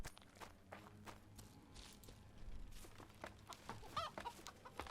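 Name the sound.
chicken clucking in the video game Witcher 2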